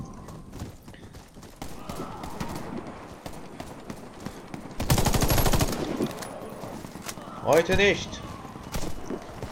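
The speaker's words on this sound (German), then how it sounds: "Ich bin von überall beschossen, ey." Gunfire in the shooter game Warface: bursts of automatic fire with a loud dense volley in the middle, under someone talking in German.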